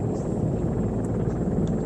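A steady, muffled rotor and engine drone from a helicopter in Arma 3, a constant low rumble with no talking.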